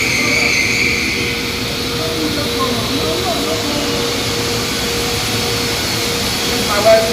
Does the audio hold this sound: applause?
no